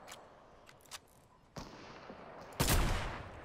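Sniper gunfire in the video game Fortnite, a few faint distant shots followed by one louder sharp crack with a short decaying tail, no talking over it.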